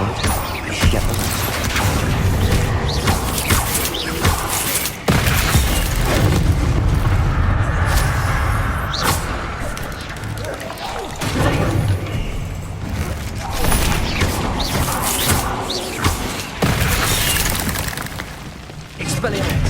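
Spell blasts from the video game Hogwarts Legacy, such as Incendio and Bombarda, land as repeated loud booms and crashing impacts amid game action, with voices talking over them.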